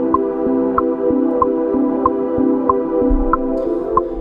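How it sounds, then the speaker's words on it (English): A sustained synth pad layer for a pop song holds a steady chord, while soft evenly spaced plucky notes tick on top. "And there's our pad layer"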